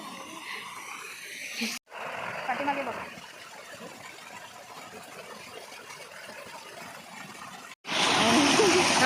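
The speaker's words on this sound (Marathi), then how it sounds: "आमचा धबधबा गावच्या घराच्या बाजूचा पर्सनल प्रायव्हेट धबधबा" A small private waterfall beside a village house in rural Konkan during the monsoon, splashing steadily with a broad rushing wash that drops away briefly and then swells loud again, while people talk over it.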